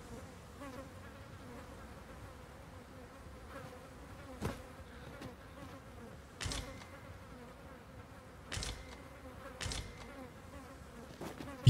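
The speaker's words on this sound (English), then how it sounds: "You heard the fly buzzing" A fly buzzes steadily through a dense game soundscape in Dragon's Dogma 2, its faint whine running under the ambience while several short, sharp impacts punctuate the scene.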